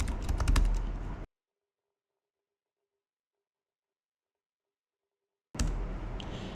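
Quick bursts of clicking keys as a prompt is typed on a computer keyboard, close and crisp, in two short spells separated by several seconds of silence.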